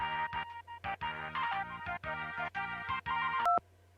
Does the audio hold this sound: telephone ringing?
yes